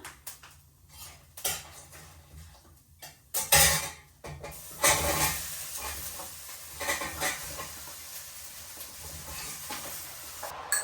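Vegetables frying in oil with dried red chili, bay leaf, black gram lentil dumplings and five-spice: a soft sizzle runs under bursts of a utensil clattering and scraping against the pan, close by.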